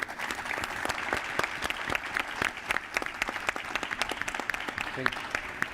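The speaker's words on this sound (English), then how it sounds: "Please, round of applause for this awesome panel" Sustained audience applause for a panel at a Barcelona tech event, dense overlapping claps holding steady at a moderate level.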